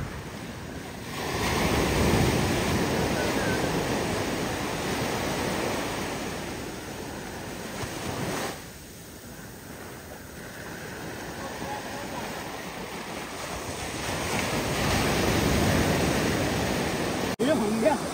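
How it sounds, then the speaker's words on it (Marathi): Rough monsoon sea on the Konkan coast, where small-net shore fishing goes on: a loud, steady broadband roar of surf and wind swells and dips over the span, with no distinct boat engine standing out. "खवळलेला समुद्र आणि कशी होडी पास होते ती बघा आता"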